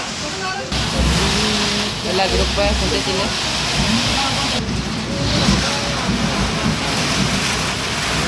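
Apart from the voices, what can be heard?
heavy rain falling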